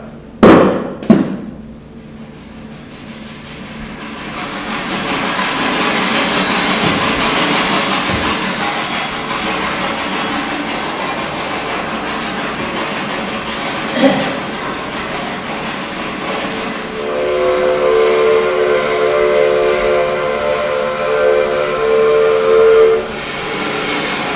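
Theatre sound effect of a train with a steam whistle, Tartu–Valga line: a sharp burst opens, then a steady broadband rolling rumble runs throughout, with a brief knock mid-way and a rising whistle-like tone near the end.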